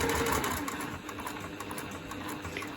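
A sewing machine stitching a fabric placemat, a steady close rapid mechanical whir and needle chatter running continuously.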